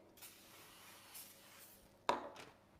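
A nonstick spray is spritzed onto a baking tray in a home kitchen, heard as a few short, soft hissing bursts, the last one slightly louder and closer, with quiet handling in between.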